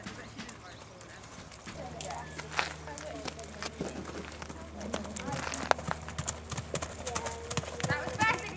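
Horse hooves clip-clop at a steady walking rhythm during a riding lesson, fairly close and continuous, with faint background noise and occasional voices.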